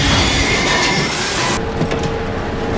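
A train on rail tracks rumbles loudly with steady wheel noise, then the roar cuts sharply about halfway through as it stops abruptly, leaving a lower residual rumble and faint squeal, with no one talking.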